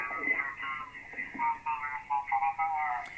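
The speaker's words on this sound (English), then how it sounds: "if you hear a high pitch sound like this, you know to go anti-clockwise with a VFO" Mistuned single-sideband signal on the 40-metre amateur band, its voice squeezed into a high, chirpy, unintelligible warble; a thin, faint radio sound in short bursts over a hiss.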